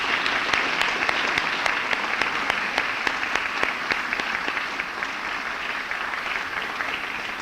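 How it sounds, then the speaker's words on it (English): A dinner audience applauds the evening's Top 20 students with a sustained, fairly loud round of clapping from many hands, with a few distinct nearby claps standing out over the dense crowd wash. "let's give them another round of applause"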